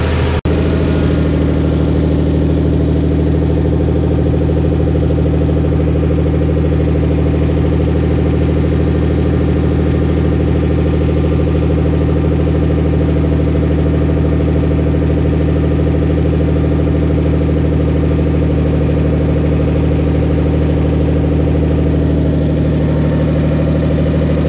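A turbocharged BMW E46 328i engine idles steadily while warming up. It gives a continuous, loud, low rumble with an even mechanical hum throughout and no voices.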